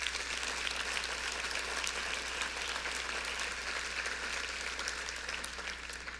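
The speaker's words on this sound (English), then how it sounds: "Big round of applause for Salvador and Think Bee" Audience applause for presenters at the 25th Annual DATOS event on Arizona's Hispanic market, a steady, dense wash of clapping from a large room that holds evenly throughout.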